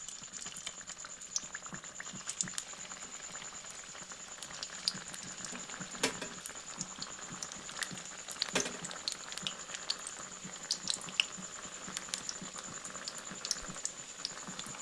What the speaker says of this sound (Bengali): এরপর এগুলি একটি একটি করে গরম তেলের উপর ছেড়ে দিচ্ছি